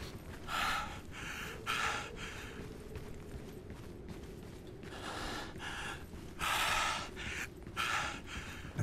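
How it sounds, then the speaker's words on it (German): Heavy panting breaths and snorts from a character in the video game Lost Light, repeating in bursts over a steady low game ambience, close and fairly loud, with no talk. "Er ist ja nur am Schnaufen und Schniefen."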